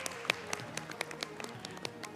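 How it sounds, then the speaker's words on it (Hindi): An audience applauds the teams at a Ramadan show event, with fairly faint, scattered individual claps in a loose, uneven rhythm over quiet room tone. "आप इन तमाम टीम्स के लिए जोरदार तालियां होनी चाहिए।"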